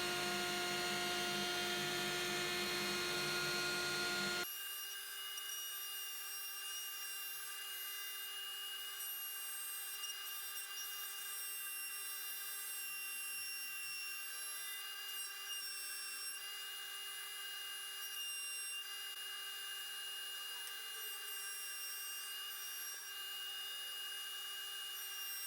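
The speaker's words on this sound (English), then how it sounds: "these strips were slightly oversized so I could trim them flush with the router" A router flush-trims oversized wooden edge strips on a DIY floating shelf. A loud, harsh, broadband cutting roar opens the clip, then settles into a steady high-pitched motor whine that runs close and continuous to the end.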